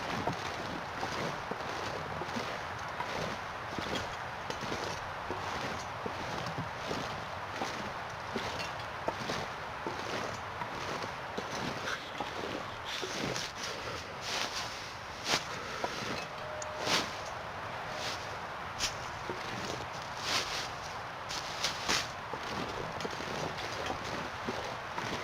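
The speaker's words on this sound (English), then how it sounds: "That's windy." Wind blows steadily across a snowy landscape in The Long Dark, a constant rushing hiss with gusty swells, overlaid by faint repeated crunching steps throughout.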